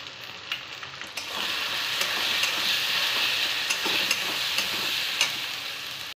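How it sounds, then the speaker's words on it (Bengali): Spice masala of ginger-garlic paste, tomato, red chilli powder, coriander, turmeric and salt fries in a pan while being stirred, a loud continuous sizzle with spoon scrapes and taps, close up. "ভালো করে কষিয়ে নেবো মশলাটা"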